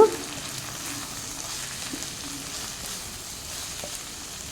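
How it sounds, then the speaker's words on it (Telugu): Ivy gourd fries in a pan as a coconut spice mix is stirred in, giving a steady close sizzle with a soft stirring scrape at the start and scattered faint clinks. "కొబ్బరి కారం వేసి బాగా కలపాలి."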